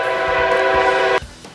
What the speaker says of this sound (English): and a train comes.